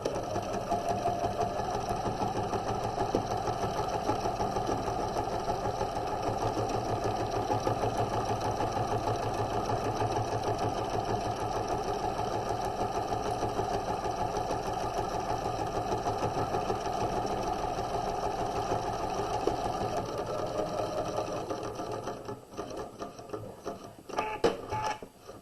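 A sewing machine stitches across a pillow with a steady, fast mechanical whir that runs continuously at close range for about twenty seconds, then stops, leaving a few faint handling clicks.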